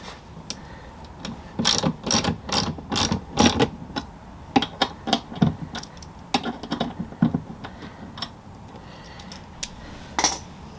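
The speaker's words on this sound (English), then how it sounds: "get the key and the ratchet" A hand ratchet clicks on engine guard bolts during a 2024 Harley-Davidson Lowrider ST install, close-up bursts of rapid pawl clicks with brief pauses and a few metallic taps.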